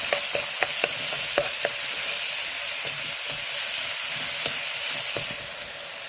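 Tomatoes and spices cooking down in a pan for an omena sauce give a steady, broad sizzle with a few faint clicks of stirring early on, close and continuous without talk.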